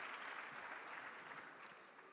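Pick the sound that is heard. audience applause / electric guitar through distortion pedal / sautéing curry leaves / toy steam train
audience applause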